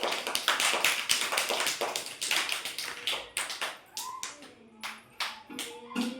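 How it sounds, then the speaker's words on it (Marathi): A group of children claps hands during a preschool shape-walking activity, rapid uneven bursts of claps that continue throughout, with brief voices calling out toward the end. "टाळ्या वाजवा सगळ्यांनी"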